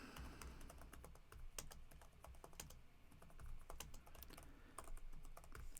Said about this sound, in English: I'm just going to go down here and type in some gibberish.